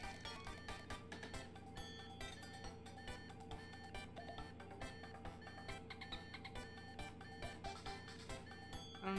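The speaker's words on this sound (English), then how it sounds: "thirty beeps." A machine in Paper Mario: The Thousand-Year Door emits a long steady series of regular electronic beeps, roughly one per second, quiet and repeating evenly over a musical background with no talking.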